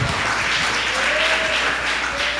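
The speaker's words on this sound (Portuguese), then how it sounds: "Aplauda ao Senhor" Church congregation applauding during a worship service, a burst of dense, sustained clapping at close range, loud and even through the whole moment.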